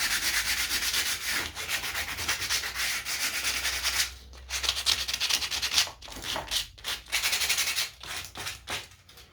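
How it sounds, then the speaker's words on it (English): Hand sanding of old cedar wood, a steady abrasive scratching that runs continuously for several seconds, then breaks into shorter, choppier back-and-forth strokes near the end; close and fairly loud, with no talking. "Now, I'm not really wanting to sand too much. Nope. Get some fuzzies off."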